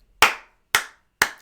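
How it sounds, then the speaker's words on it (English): Three sharp hand claps, spaced about half a second apart, each loud and close with a quick decay, alone with no talking. "That's a clap. That's worthy of a clap."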